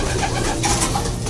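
Pigeons cooing steadily inside a backyard loft, soft rolling coos repeating close by over a constant dense bed of bird noise.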